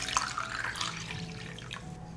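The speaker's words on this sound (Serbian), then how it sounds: "Sipam mlaku vodu u šerpu do visine poklopca." Lukewarm water pours into a deep cooking pot that holds glass jars standing on a cloth at the bottom. The splashing, trickling stream lasts about two seconds, close by and moderately loud.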